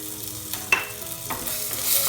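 An onion hits hot oil in a pan for a bottle gourd and dried shrimp bhaji, giving a faint, steady sizzle broken by a few short stirring scrapes.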